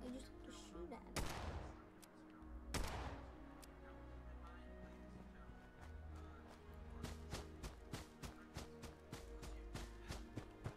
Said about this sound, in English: I just have to shoot at it.